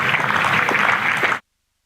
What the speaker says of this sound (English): let's listen to the applause from this generous Hove crowd